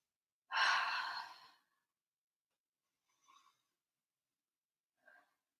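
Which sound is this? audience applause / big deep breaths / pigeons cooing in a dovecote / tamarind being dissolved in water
big deep breaths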